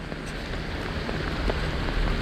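Steady rain falls outdoors during a fly-fishing trip for king salmon in Milwaukee. A constant close patter of drops on surfaces forms an even, dense wash of sound, with no voices.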